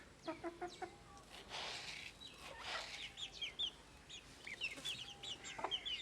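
Chickens cluck and squawk while being fed grain and flour, with a tethered hen among them. Several birds make short, overlapping clucks, both near and farther off, over a faint background hiss.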